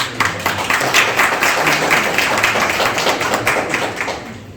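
Audience applause at a Korean venture-startup investment forum, dense steady clapping from a crowd filling the room for several seconds, fairly loud and close, with no voices over it.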